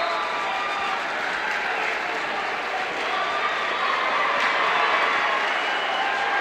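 Crowd cheering and applause at a high school team state wrestling match against Simeon in Chicago, a steady wash of distant voices and clapping filling the gym for the full stretch.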